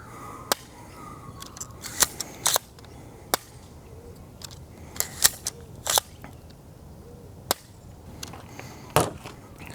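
Nerf darts fire from a string-powered bullpup revolver outdoors on a range, a series of sharp, separate snapping cracks at uneven intervals, some in quick pairs, over quiet ambient background.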